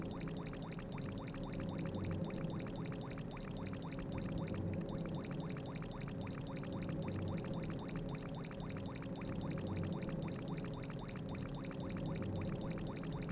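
River water in the YNO Project game, a faint continuous trickling and gurgling flow that stays even and unbroken, with a low steady hum beneath and no one talking.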